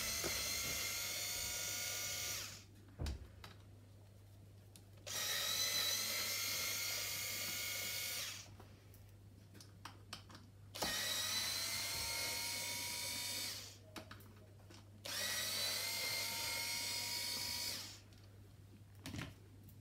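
Screws backed out of a Baby Jogger City Elite stroller front frame with a power driver, four whirring bursts of a few seconds each separated by short pauses, close and clear with a faint steady hum underneath.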